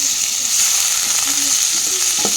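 Chopped carrots and onion fry in a pan, giving a steady, close hiss of sizzling oil with light spatter and a brief scrape of stirring near the end, no voices.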